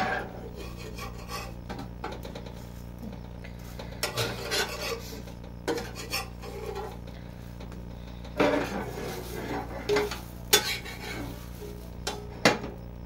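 A utensil scrapes and rubs coconut filling in a hot pan while making patishapta, giving close, irregular rasping strokes with occasional sharper clinks against the metal.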